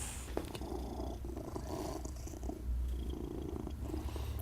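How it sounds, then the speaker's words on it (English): A contented cat at an animal shelter purrs steadily and close up, a soft continuous low rumble with a gentle in-and-out rhythm and no talking. "He's got a heck of a motor on him, so he's really just purring and very content."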